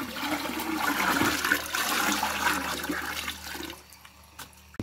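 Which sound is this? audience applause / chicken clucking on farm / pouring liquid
pouring liquid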